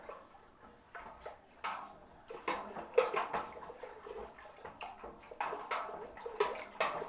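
Turkey brine stirred vigorously in water in a container, heard as repeated close splashing and swishing sloshes at an uneven rhythm, fairly quiet, with no talk.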